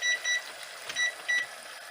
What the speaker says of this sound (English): we'll start timer for 5 minutes